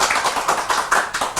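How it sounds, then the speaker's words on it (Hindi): Brief clapping for children on a TV quiz show, a quick run of distinct, close hand claps in an uneven rhythm over little more than a second. "तालियां हो जाए जरा,"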